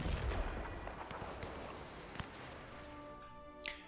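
Artillery shells fire and burst in a WW1 strategy video game: a dense cluster of heavy booms opens, then rumbling barrage continues more sparsely with scattered sharp impacts and a brief high whine near the end.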